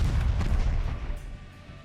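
Heavy naval guns fire in the warship game Ultimate Admirals: Dreadnoughts, a deep rumbling boom that rolls on loudly and then slowly fades over a couple of seconds.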